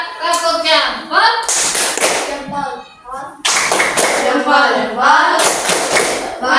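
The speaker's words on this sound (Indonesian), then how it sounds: "Kasih tepuk jempolnya untuk kelompok 2" A classroom group performs a rhythmic 'tepuk jempol' clap cheer for a presenting team, with bursts of patterned clapping alternating with chanted voices, loud and close, repeated twice in quick succession.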